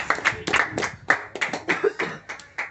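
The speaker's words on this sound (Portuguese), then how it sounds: "Vamos bater palmas" A church congregation claps in rhythm during a worship service, with sharp, distinct hand claps landing in a fairly regular beat close to the listener and faint voices in the background.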